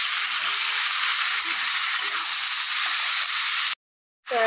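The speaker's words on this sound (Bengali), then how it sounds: "নেড়ে চেড়ে দিচ্ছি।" Potatoes and small fish frying with salt and turmeric while being stirred, a loud, continuous sizzle that cuts off abruptly near the end.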